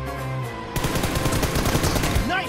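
A battle royale shooter erupts in a dense, loud burst of rapid automatic gunfire that follows a brief lead-in, with talk mixed in under the shots.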